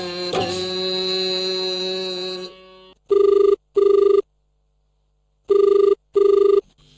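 Telephone rings on a radio folk-song phone-in show: two double-burst electronic rings, loud and close, after a sung folk melody fades out, with silence between the pairs.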